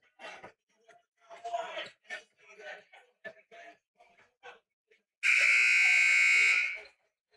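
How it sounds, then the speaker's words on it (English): A loud, sustained buzzer sounds at a varsity high school basketball game, Somers vs HenHud, ringing steadily for about a second and a half after a stretch of talk. "First buzzer, teams will start to head back out for the second."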